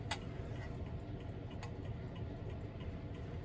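A Smith's 30-hour wind-up clock ticks steadily at close range, sharp regular clicks sounding alone over a faint background hiss.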